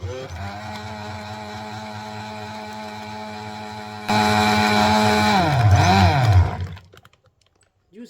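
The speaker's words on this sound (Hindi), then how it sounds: "इसको मज़ीद थोड़ा सा बस ग्राइंड करेंगे" Electric blender grinding peach juice with a pinch of black salt, a loud whirring motor that jumps louder midway, winds down and stops, then a brief restart at the end.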